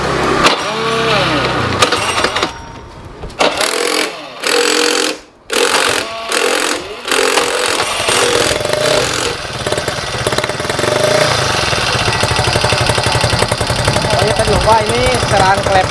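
A bored-up carbureted 115cc Honda Beat scooter engine with a 16-step BRT CDI fires up after a few choppy attempts, then settles into a loud, steady, slightly noisy idle close to the microphone.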